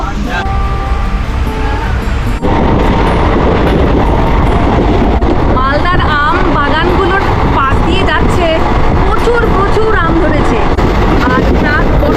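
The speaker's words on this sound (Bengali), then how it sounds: "ঠিক সকাল আটটা চারে ট্রেন মালদা টাউন থেকে ছেড়ে দিল" A passenger train pulls out of Malda Town station in the morning, with a loud continuous rumble of wheels and carriage noise close by, and people talking and calling out over it.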